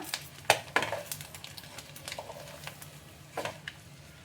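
Eggs fry with pepper masala in a pan as a soft sizzle runs beneath sharp, near clinks and scrapes of a utensil against the metal, with a few louder knocks.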